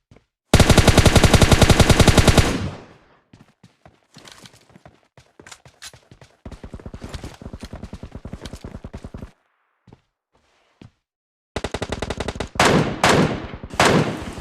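M4 rifle fire from PUBG Mobile Lite: a long loud automatic burst, then scattered quieter shots and footsteps, another sustained stretch of fire, and a final rapid burst of close gunfire.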